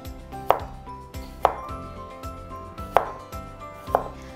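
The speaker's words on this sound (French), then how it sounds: "Je coupe le concombre en deux. Et puis, je coupe en petits morceaux." A knife chops a cucumber into small pieces on a board, four sharp, distinct thuds spaced about a second apart, close up over a faint background hum.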